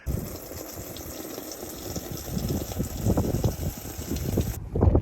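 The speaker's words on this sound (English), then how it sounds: "We are ready and prepped to fill this with water now." Water pours into a portable Lifepro cold plunge ice bath, a close churning, bubbling rush with low rumble that grows slightly louder toward the end, with no speech.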